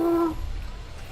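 A person's voice imitates an owl hoot, a single short clear hoot close to the microphone, followed by a faint low rumble.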